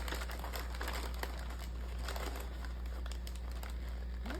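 Paper for a party favor is folded and creased, giving soft, continuous crinkling and rustling up close over a low steady hum, with no voices.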